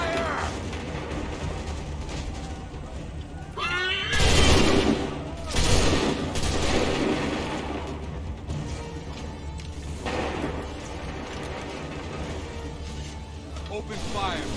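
Musket volleys fired by lines of soldiers in Assassin's Creed 3, with several loud booming fusillades in bursts amid battle noise and shouted orders.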